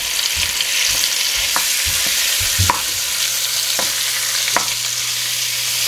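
About 1.5 pounds of stew meat browning in a tablespoon of oil in a pan: a loud, continuous close sizzle broken by several sharp spoon clicks and scrapes as the pieces are moved.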